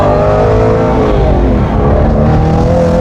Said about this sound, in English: That downshift though.